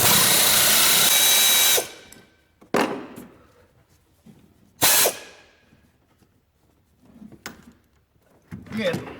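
A power tool with a 15mm socket runs in a loud burst, spinning nuts off the master cylinder of a Chevy Duramax during hydroboost replacement, followed by clunks and handling knocks of parts.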